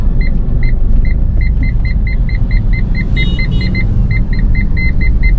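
A car's reversing parking sensor beeps in a rapid, regular series of short tones while the engine rumbles loudly underneath, during a U-turn in traffic.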